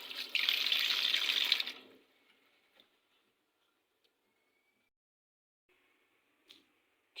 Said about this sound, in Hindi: अब इनको हम अच्छे तरीके से धो लेते हैं